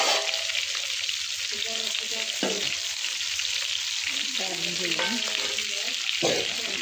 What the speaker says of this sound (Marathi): आता चांगले फ्राय करायचे कडक एकदम दोन्ही साईडने.